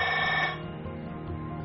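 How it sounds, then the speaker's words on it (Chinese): A telephone bell rings in rapid, urgent bursts, loudest in the first half second and then carrying on more softly for a little over a second, with no voices. "就被一阵急促的电话铃声打破了"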